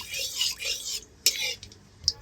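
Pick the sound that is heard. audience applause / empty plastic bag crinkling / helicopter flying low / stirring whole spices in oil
stirring whole spices in oil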